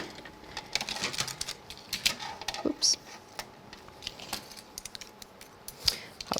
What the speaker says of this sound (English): Bring my scissors in.